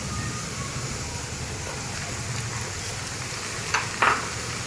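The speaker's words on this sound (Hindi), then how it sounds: "हमारा ये प्याज फ्राई हो चुका है" Steady frying sizzle of onions in a pan fills the clip, a dense hiss with two brief clinks near the end.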